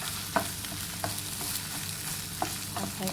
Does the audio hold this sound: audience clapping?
no